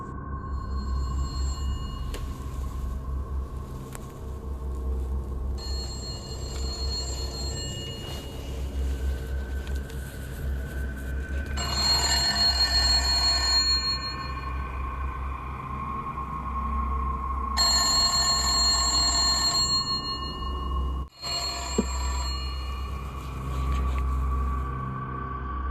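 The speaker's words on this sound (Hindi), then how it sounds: "दरअसल एक पुराना जंग लगा हुआ फ़ोन बज रहा होता है" An old rusty telephone rings in a dark room, sounding as repeated bursts of electronic tones over a constant low rumble, with gaps of quiet hum between the rings.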